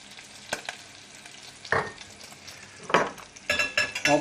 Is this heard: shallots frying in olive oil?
yes